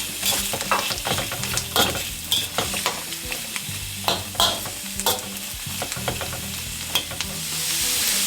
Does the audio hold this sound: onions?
yes